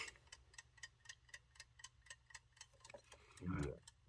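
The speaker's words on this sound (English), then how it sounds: "Now we're going to be hearing that clock ticking in the background the entire time." An older US-made wind-up alarm clock ticks in a quick, even rhythm, soft and close, with a low stomach rumble briefly rising near the end.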